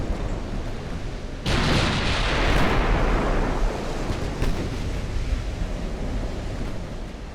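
Warship guns firing in the naval battle game Ultimate Admiral: Dreadnoughts, a heavy booming blast that swells into a long rumbling roar with wash-like noise, loud and sustained, no talk.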